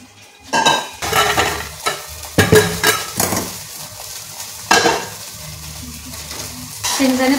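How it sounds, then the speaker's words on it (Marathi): Puffed rice roasts on low heat in a kadhai, stirred with repeated rustling scrapes and clinks of the spoon against the metal over a light sizzle. "हे चिरमुरं पण बारीक गॅसवर कनी कडीमध्ये भाजून घेणार आहे"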